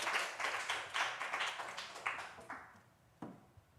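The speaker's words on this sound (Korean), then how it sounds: "우리 하나님께 영광의 박수 올려드리겠습니다." Congregation at a Wednesday worship service claps in scattered, quieter bursts that thin out and stop, ending with a few isolated claps at modest volume.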